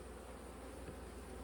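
Bees at a queen-rearing setup hum in a steady, faint buzz that stays even throughout, with no voices.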